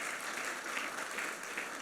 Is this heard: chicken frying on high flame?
no